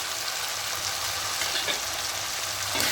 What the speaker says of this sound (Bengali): খুব ভালো করে মশলাটা একটু কষিয়ে নেব